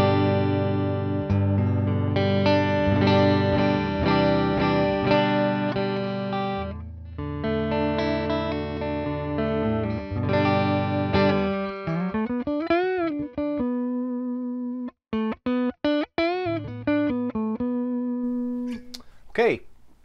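An electric guitar on its neck pickup rings out sustained clean chords, then shorter plucked notes and bends with gaps between phrases, loud and close with no talk over it.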